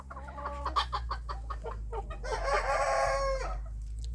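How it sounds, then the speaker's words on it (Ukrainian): A Cochin rooster crows loudly and close by while smaller bantam chickens cluck and squawk around it, over a steady low hum. "знайомляться із півним кохінхіном"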